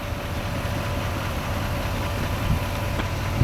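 A 2020 GMC Sierra 3500 Crew Cab Denali with a 6.6 liter V8 turbo diesel idles in a steady low rumble with a faint whine, close and even, with no talk.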